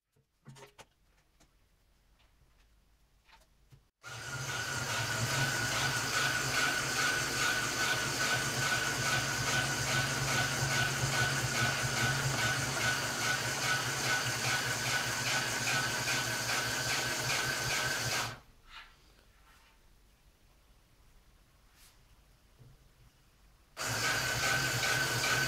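A homemade harmonic drive, built with only six of its ten bearings, runs under test with a steady, loud mechanical whir that holds for about fourteen seconds, stops, then starts again near the end.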